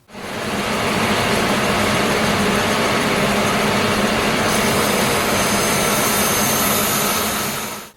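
A saw blade rips slowly through a reclaimed lumber board as it is fed and pivoted along marked lines, giving a loud, steady broadband whine that holds unbroken for the whole stretch, with no talking.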